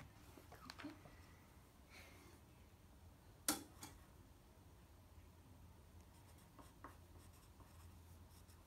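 Pen or pencil scratches across paper in a quiet room, soft intermittent strokes with one sharper tap midway, close but faint, no talking.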